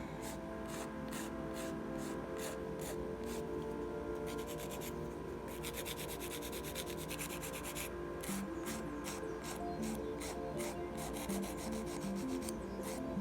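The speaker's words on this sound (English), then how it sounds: "then I'll do some filing and we'll go from there" Nail file working the edges of dip powder nails, a continuous close scratchy rasp in quick repeated back-and-forth strokes, steady and fairly soft with no talking.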